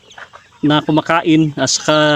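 Farm chickens clucking while they eat, several close, loud bursts of clucks in quick succession, with someone speaking briefly at the start.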